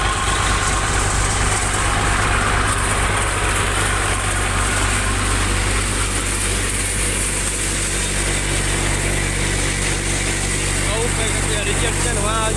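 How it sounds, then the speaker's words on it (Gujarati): A tractor engine runs on a chickpea farm, a loud, constant close-up idling rumble that stays steady with a slight rattling edge for the whole stretch. "ટ્રેક્ટર અત્યારે પરફોર્મન્સ સારું દે."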